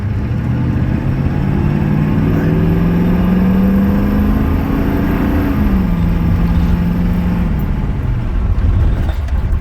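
A 6.9 or 7.3 IDI diesel pickup truck pulls hard from a stop sign, its pitch climbing through the gears in long loud sweeps, close and with no talking.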